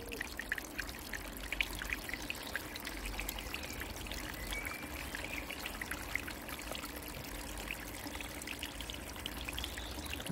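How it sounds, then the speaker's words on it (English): Water rushes steadily out of an Evolution Aqua Pure Pond upflow filter fed by a 2,500-litre pump. The constant trickling flow is moderately quiet and close, with no talking over it. "if I open that now fully, you'll see the water in there start coming out a lot faster"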